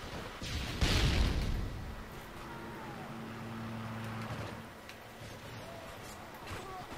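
A muffled grenade blast in a Call of Duty match, one deep thump followed by rumbling engine-like hum, heard beneath a player talking.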